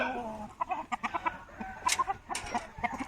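A grey-gold fighting cock clucks in quick, clipped bursts close up, a rhythmic series of short calls with no talk over it.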